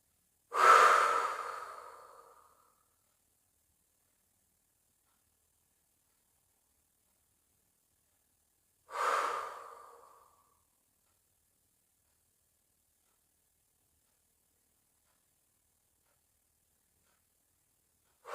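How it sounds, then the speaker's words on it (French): Two slow, calm breaths, each drawn in through the nose and let out through the mouth, close and clear, separated by long stretches of silence during a relaxation exercise. "L'air qui pénètre par mes narines, l'air que je souffle par la bouche."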